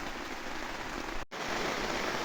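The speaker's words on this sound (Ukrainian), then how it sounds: "Дощ такий періще, що десь протікає теплиця і капає." Heavy rain pours steadily onto a greenhouse roof, a dense, even hiss with no voices, broken only by a split-second dropout near the middle.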